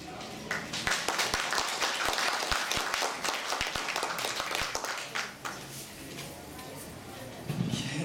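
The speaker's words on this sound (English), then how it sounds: "let's give him a big applause" Audience applause at a fundraising event, a mix of distinct individual claps over a steady crowd patter that gradually thins out, with a voice briefly heard near the end.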